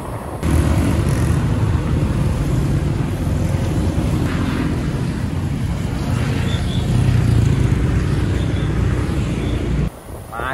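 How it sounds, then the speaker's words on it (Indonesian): Heavy traffic on a busy road, a continuous loud rumble of many passing cars mixed with strong wind buffeting on the microphone, with no talk. "Belakang juga banyak mobil yang berlalu lalang"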